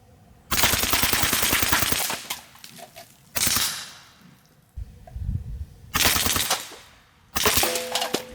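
Mordax PCP air pistol firing full-auto bursts, four loud rapid rattling strings of shots, each about a second or more long, separated by short pauses, close by.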